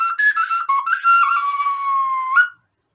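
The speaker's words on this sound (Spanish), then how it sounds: "Y este otro silbato también es maya." A Maya clay whistle, an indigenous Latin American wind instrument, sounds up close with a bright, breathy tone that wavers between a few pitches before a long sustained note and a short rising flourish, played alone.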